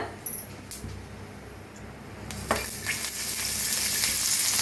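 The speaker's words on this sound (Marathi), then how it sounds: "तर आता मिरच्या जरा जरा भाजायला देत्या बघा त्याच्यातच टाकूया शेंगदाणा आणि लसूण" Green chillies with peanuts and garlic roast in a little oil in a pan, a soft hiss building to a steadier, louder sizzle with a few scraping touches, no talking.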